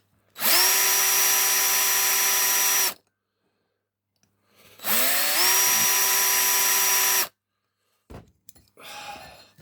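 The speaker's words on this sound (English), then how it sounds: "I see where I need to drill just a little bit more in that corner" A high-pitched power drill whines in two long bursts of a few seconds each, drilling out rivets on a Matchbox Rolls Royce Silver Shadow toy car, separated by silence, then faint clattering handling noises.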